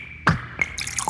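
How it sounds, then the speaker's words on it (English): A synthesized Coca-Cola advert effect: a sharp, close bottle pop, a short drip-like blip, then a bright fizzing pour that builds toward the end. The effect is loud and heard alone. "The sounds of adverts for Coke and Pepsi, all those bottles popping and fizzing."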